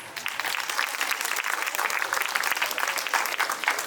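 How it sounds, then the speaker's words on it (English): Sustained applause from a crowd at an International Women's Day and Holi festival event, dense and steady clapping filling the room for several seconds. "Let's give them a round of applause"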